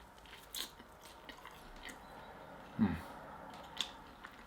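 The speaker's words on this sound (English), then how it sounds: "that outer crust is so crunchy" Quiet chewing with a few crisp crunchy bites into the seared crust of a ribeye steak, one louder crunch near the middle, over soft background noise and no talking.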